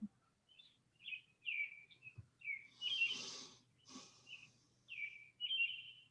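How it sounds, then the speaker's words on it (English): Small birds chirp and trill in short bursts, several calls overlapping, fairly close with a faint low hum underneath. "Listen to those birds."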